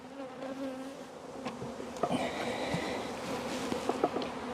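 Honeybees buzzing around an opened hive during a split for swarm control, a dense close droning hum with individual bees zipping past and a few handling clicks and knocks.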